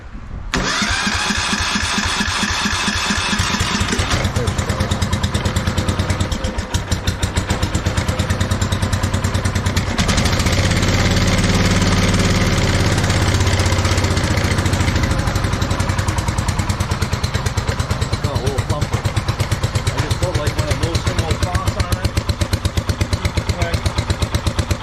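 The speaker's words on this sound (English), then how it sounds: "that's a good running tractor too, a good running motor." An old tractor engine cranks, catches and then runs loud and close, with a rapid clattering idle that keeps going for the whole stretch and a few shifts in pitch as it settles.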